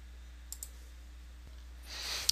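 A couple of quick computer mouse clicks sound close and sharp during setup of a GoDaddy webmail account, separated by quiet desk ambience and followed by a rising soft hiss.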